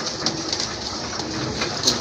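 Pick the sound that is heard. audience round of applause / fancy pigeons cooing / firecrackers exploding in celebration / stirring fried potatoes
fancy pigeons cooing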